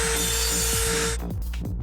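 A saw grinds steadily through a hollow plastic LEGO Superman figure for about a second, then breaks into a few short, scraping strokes.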